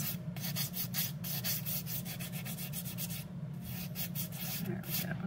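An acrylic nail is filed to shape its apex, giving steady, rapid rasping strokes in a close, continuous back-and-forth rhythm that runs without pause and without any voices.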